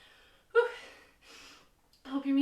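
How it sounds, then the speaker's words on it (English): A person gasps and breathes heavily after a round of a HIIT workout, with a few close, loud breaths separated by short pauses. "I hope your music is louder than my breathing right now"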